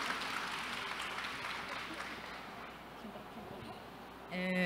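A book-fair audience at the Bienal do Livro applauds Paulo again, a faint, distant spread of clapping that gradually thins out before a brief louder tonal sound at the very end.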